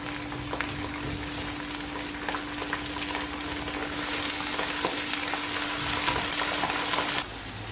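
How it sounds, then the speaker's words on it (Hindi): Bone-in meat hitting hot oil with golden fried onions in a pan, a continuous crackling sizzle that swells louder midway and then drops back slightly, close and with no voices. "अब मैं डालूंगी इसमें गोश्त।"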